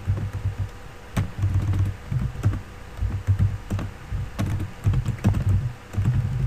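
Typing on a computer keyboard while entering text into a Scratch 2.0 program, with steady irregular keystrokes and heavier thunks close by, alone without talk.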